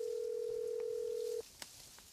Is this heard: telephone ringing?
yes